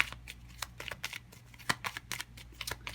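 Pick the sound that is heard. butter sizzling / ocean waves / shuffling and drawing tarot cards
shuffling and drawing tarot cards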